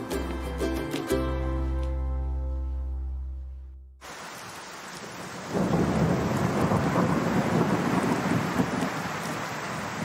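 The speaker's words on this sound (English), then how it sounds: "We've been longing for rain, so it's wonderful to have rain." Steady rain shower pours down on a garden, a dense broad hiss of falling drops filling the second half at close range, preceded by tonal music that cuts to a brief quiet gap.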